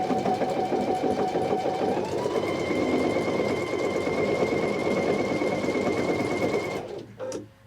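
A Pfaff Icon or Expression sewing machine embroiders a monogram letter, a steady fast mechanical whir and stitching rattle running for about seven seconds before it stops, followed by a brief clunk.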